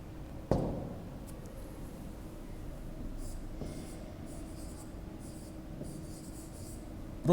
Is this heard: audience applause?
no